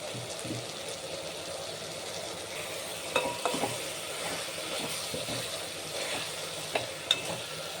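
Red chilli powder and coriander powder frying in a pan, a continuous soft sizzle with intermittent stirring clicks and scrapes.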